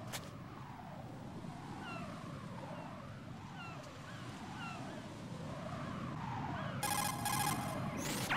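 A cell phone in Metal Gear Solid 2 rings with a repeating warbling electronic tone over a low ambient hum, steady and unaccompanied by speech.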